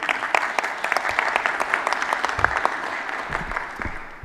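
Sustained applause from a crowd, steady and fairly loud, with dense clapping throughout.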